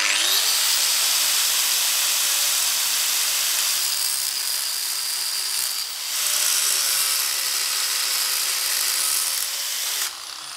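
A power tool cutting excess metal off a Lexus IS200 ball joint, a sustained high-pitched whining grind that dips briefly near six seconds and again near ten, close and loud.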